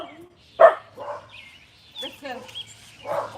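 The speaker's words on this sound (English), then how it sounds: "Maggie's barking at a rabbit" Maggie the dog barks at a rabbit, a few sharp, moderately loud barks and yips spread unevenly across a few seconds, with a person speaking briefly among them.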